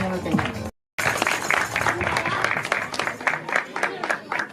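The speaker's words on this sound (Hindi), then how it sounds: "तालियां वैसे इन्नियां जोरदार नहीं सी जिन्नियां मैं कही" Church congregation applauding at a Holy Spirit baptism service, a dense burst of clapping with a brief dropout near the start, then steady clapping at moderate volume with voices mixed in.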